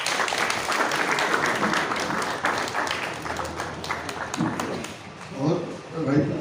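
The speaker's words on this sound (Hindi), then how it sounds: "इनके लिए जोरदार ताली हो जाए।" Audience applause for an honoured guest at a Durga temple committee gathering in Raipur during a football kit donation drive, dense steady clapping filling the clip with crowd murmur and voices rising beneath it toward the end.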